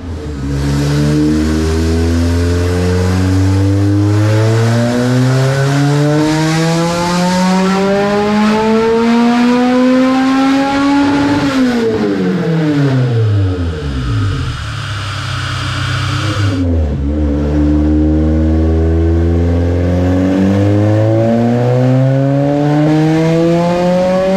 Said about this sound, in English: we got the exhaust dropped to the floor, and now we're gonna dyno this thing, open header